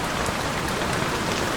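Rain pours steadily onto a tent at a lakeside campsite during a storm. The dense, even patter stays loud throughout, with no voices.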